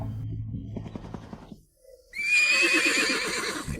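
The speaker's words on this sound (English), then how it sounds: "It's a horse." A horse in the Roblox Thomas and Friends game gives a loud, drawn-out whinny after a brief low-pitched sound and a short pause, the neigh shrill and wavering.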